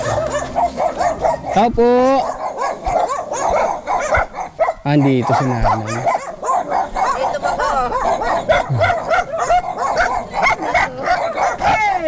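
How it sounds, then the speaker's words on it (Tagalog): Several dogs bark and yip repeatedly, loud and close, with some whimpering mixed in, as people talk over the barking throughout. "Andito na naman ang mga aso nating kaibigan."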